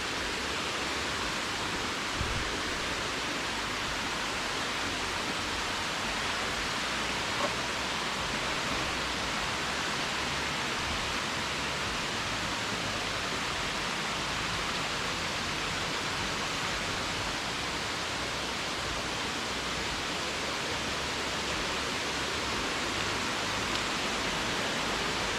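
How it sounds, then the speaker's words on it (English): Water streams down steps along a pathway in a Tennessee state park, a steady hissing rush like a small waterfall, constant and fairly close, with no voices. "There's just a waterfall going down the steps."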